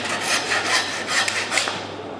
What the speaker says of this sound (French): Après, on donne un coup de scie.